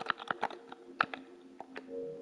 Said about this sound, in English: That clicking you hear is my controller.